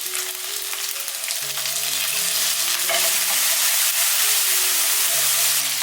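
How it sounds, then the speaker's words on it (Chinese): Chicken leg pieces, pan-fried golden on both sides, sizzle loudly and steadily as ginger and garlic are stirred through them, with a dense close hiss and occasional spatula scrapes and no talk. "两面煎金黄了，加入姜蒜，翻炒一下。"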